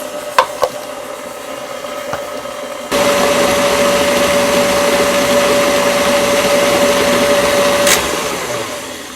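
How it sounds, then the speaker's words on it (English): An electric mixer beats butter with brown and white sugar for cookie dough, starting after a few light clatters and then running as a steady loud whir for several seconds before easing off near the end. "we're going to mix that until it's light and fluffy"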